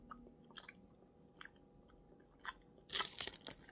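Someone chews a chewy Korean jjondeugi snack close to the mic, soft, irregular sticky bites and squishes that grow louder and crunchier toward the end, with no talk.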